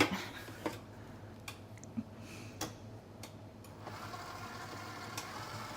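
An electric mixer churning dry ingredients, with a steady low motor whir and sparse light ticks and clicks from the beaters against the bowl, close by and with no voices.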